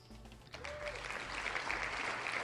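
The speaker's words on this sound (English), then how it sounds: "Crowd going nuts." Wrestling crowd in the video game Fire Pro Wrestling World, a dense wash of applause and cheering that swells from quieter to loud and sustained, with a faint tone near the start.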